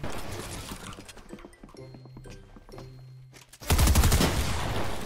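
Gunfire in an online shooter game: scattered shot crackles and mechanical clicks under faint background, then a loud sustained burst of rapid fire in the last second and a half.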